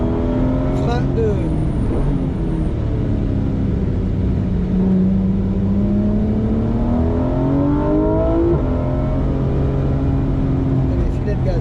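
Race car engine on a circuit during a women's driving coaching session, a steady loud drone with rising pitch sweeps as it accelerates, continuous throughout with no quiet gaps.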